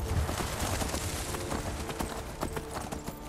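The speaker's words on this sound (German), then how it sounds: "Ich reite dann mal Widerwind dorthin, ganz geschwind" Horse hooves pound in a fast, steady gallop rhythm in Skyrim, loud and close, with a dense rumble underneath and no talking.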